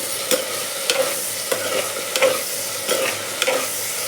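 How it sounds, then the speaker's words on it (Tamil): Spices tempering in hot sesame oil for a garlic curry: a steady sizzle runs throughout, broken by regular scraping stirs about every half second to second, close and fairly loud, with no voices. "நல்லெண்ணெய் தான் சேர்த்து நான் தாளிக்க போகிறேன்"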